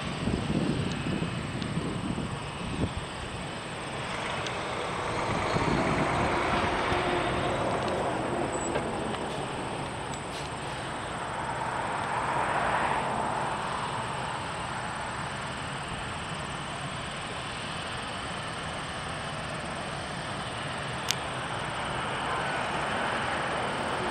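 An airliner in Beijing 2010 Expo livery passes at Toronto Pearson airport, a steady broad jet roar swelling and fading across the whole stretch, with faint insect chirping and a constant high whine behind it.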